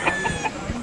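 Chickens cluck at a poultry show in Hilmar, California, several short close clucks over a steady hum of background noise, with no talk.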